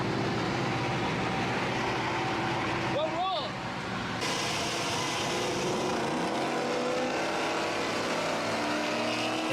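A Coyote-swapped 1999-2004 Ford Mustang with a built motor runs steadily and loudly nearby, a dense continuous engine roar that dips briefly mid-way and then settles back with a rising tone, while a voice talks over it.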